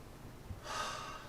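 A slow, relaxed deep breath drawn into the belly, a soft airy inhale swelling after a quiet start, close and gentle with no talking.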